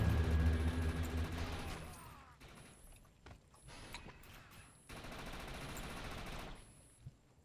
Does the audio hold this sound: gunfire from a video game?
yes